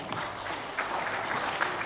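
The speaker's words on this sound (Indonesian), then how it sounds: "Pak CP Nainggolan, tepuk tangan dulu pada beliau." Audience applause at a federation gathering in Indonesia, steady dense clapping filling the whole clip with a few louder bursts, no talking over it.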